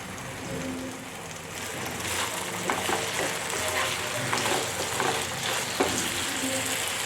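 Potatoes frying in a pan with salt, being stirred and mixed, give a steady broadband sizzle with scattered scraping and clinking taps throughout, moderately close and without talk.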